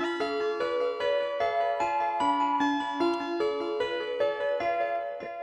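Microtonal scale built by choosing three of four harmonics, played as a sequence of sustained, harmonically rich synthesized tones that step through pitches with a steady rhythm, alone and fairly loud.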